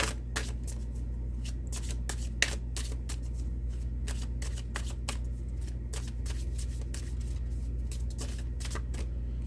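Cards of a Mystical Wisdom oracle deck being shuffled, a steady run of crisp riffling snaps repeating close up over a low background hum for the whole stretch, with no talking.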